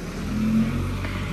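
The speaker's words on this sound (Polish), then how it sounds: "Bo ruch jest ogromny" Heavy road traffic at a busy intersection, a steady close roar of cars with one passing by, engine hum rising briefly and fading.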